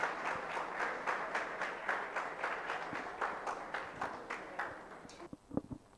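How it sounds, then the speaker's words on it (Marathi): A crowd gives enthusiastic applause for a student project team at a competition, dense continuous clapping that carries on for several seconds before thinning out at the end. "जोरदार टाळ्या झाला पाहिजे यांच्यासाठी."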